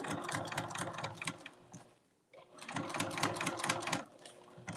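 Bernina sewing machine running with a 1/8 inch compensating foot at a set stitch length, a steady rapid needle clatter that stops briefly midway and then resumes, close and fairly quiet.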